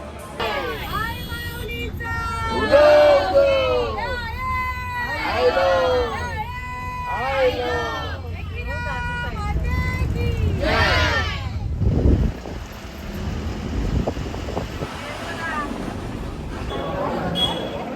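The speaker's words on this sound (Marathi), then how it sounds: "गर्दी आहे" A crowd of devotees at Ekvira temple during Navratri, with close voices and chant-like singing over steady babble for most of the span, then a looser murmur with a few bumps and knocks.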